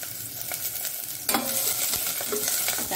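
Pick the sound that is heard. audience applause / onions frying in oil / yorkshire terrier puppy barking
onions frying in oil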